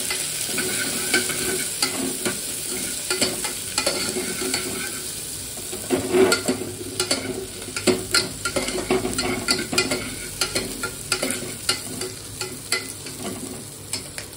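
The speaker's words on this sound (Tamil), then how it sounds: "வெங்காயம், புதினா, பச்சை மிளகாய், தக்காளி கொஞ்சம் 5 நிமிஷம் செண்டு போட்டுக்கலாம்" Onion, mint, green chili and tomato sautéing in a pan, a continuous close sizzle broken by frequent scraping stir strokes that come quicker and more rhythmic toward the end. No one speaks.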